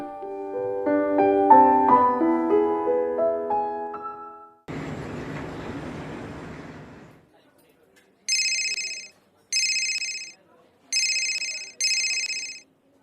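A mobile phone rings with a missed call, four evenly spaced bright electronic ring bursts, clear and close, after a stretch of melodic music and a noisy whoosh.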